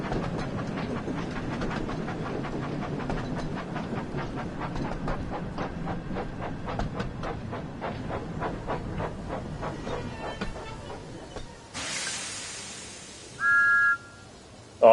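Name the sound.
steam locomotive train running in a video game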